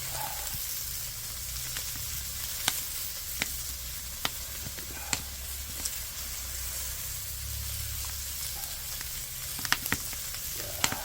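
Pork belly sizzles on a cauldron-lid griddle over a strong fire pit outdoors after a hike, a steady close fry hiss with scattered sharp fat pops and crackles throughout.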